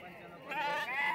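A small goat bleats at a village livestock market for Madgyal goats in Atpadi, Maharashtra, a single wavering cry rising out of low crowd murmur about halfway through.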